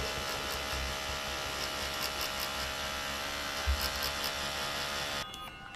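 A cheap Amazon tattoo machine fitted with a liner needle buzzes steadily and continuously at close range, then cuts off abruptly near the end, leaving a faint hum.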